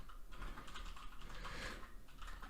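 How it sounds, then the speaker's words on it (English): Rapid, steady clatter of fingers typing on a computer keyboard at a desk, close and continuous with no pauses, with no voices over it. "I'm typing to Kevin in the chat"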